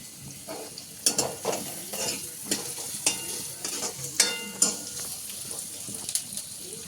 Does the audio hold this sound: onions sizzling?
yes